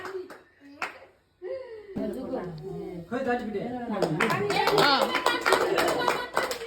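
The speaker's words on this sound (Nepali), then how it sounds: "ताली बजाऊ ताली बजाऊ" Rhythmic hand clapping at a 50th wedding anniversary celebration, steady claps running under continuous singing and chatter, growing louder and denser toward the end.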